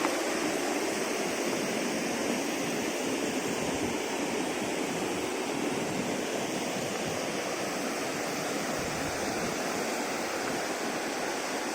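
The Serayu River rushes below a bridge with a steady, broad hiss of flowing water, constant and unbroken, heard from a little distance.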